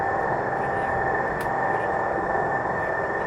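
A steady, loud roar of F-14B Tomcat jet engines at military power during takeoff on the runway in the DCS flight simulator, a broad constant rush with a high whine running under it.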